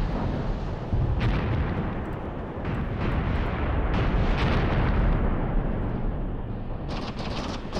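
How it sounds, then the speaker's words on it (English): Katyusha rocket artillery fire in the war game Graviteam Tactics: Mius Front, a dense, continuous roar of launches and explosions rumbling without pause, loud and close, with no talk. "And once again, more Katyusha fire against our allies."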